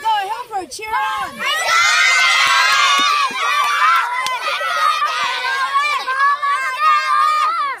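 Children shout and cheer excitedly during an apple bobbing game, their high voices overlapping loudly and continuously, with adults talking among them.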